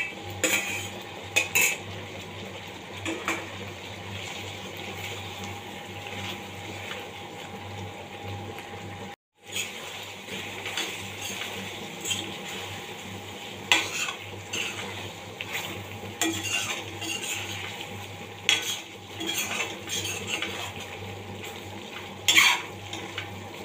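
A utensil stirs and scrapes in a pan as pointed gourd fries with spices. Repeated metallic scraping and clinking sit over a steady sizzle throughout, close and clear, with no speech.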